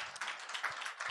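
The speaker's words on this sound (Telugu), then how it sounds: "ఒకసారి చప్పట్లు కొట్టండి ఒకసారి గట్టిగా" Church congregation clapping together at a worship service, a steady dense patter of many hands that holds at moderate level for the whole stretch.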